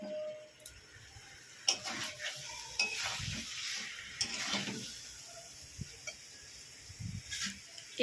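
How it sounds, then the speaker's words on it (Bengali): Potato and jackfruit pieces sautéing in a pan with a soft sizzle under repeated scraping stirs and occasional utensil taps against the pan, close and fairly quiet. "আলু আর এঁচড়ের টুকরো দিয়ে 15 মিনিটের মতো কষতে হবে।"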